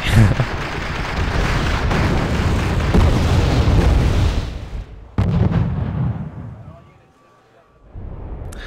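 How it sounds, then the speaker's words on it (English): Mortar carriers bombard a position in the Wargame: European Escalation battle, producing loud rumbling explosions and artillery blasts that roll together, then fade, with another heavy boom following. "I make sure to bring in another couple to continue the bombardments"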